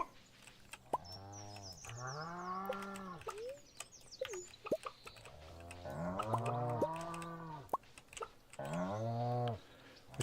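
Cows on a Stardew Valley farm moo repeatedly in long, drawn-out calls, several overlapping voices rising and falling close by, with brief clicks and game sounds between them.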